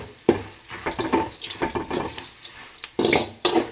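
Curry leaves crisping in hot oil for a tempering, irregular sizzling crackles and pops mixed with stirring scrapes against the pan, close and lively.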